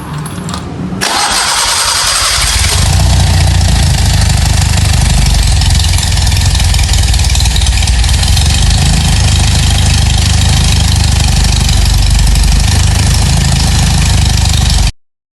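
A petrol engine with a conventional contact-breaker ignition system starts up, then keeps running at a steady, loud idle with a continuous low throb for the rest of the clip. No one speaks.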